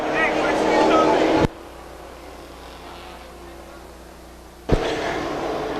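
Race cars roar around the high-banked oval of Stockton 99 Speedway, with a loud rush of engine noise that drops away abruptly and then surges back as cars sweep past.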